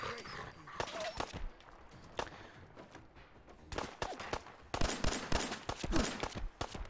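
Attack dog in the video game Fallout 4, with barking bursts mixed among sharp gunfire cracks and combat noise, busy and irregular, with a voice talking over it.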